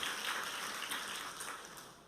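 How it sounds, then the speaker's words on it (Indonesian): Quiet, distant applause from a church congregation for the sound system team, a soft, even patter of clapping that fades slightly toward the end. "Tepuk tangan untuk yang sound system."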